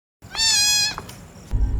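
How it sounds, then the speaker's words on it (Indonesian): A single high, drawn-out kitten meow, clear and close, followed by quiet rustling and a soft thump near the end. "saat akan meninggalkan si kucing mengeong membuat si Linda kembali mencarinya"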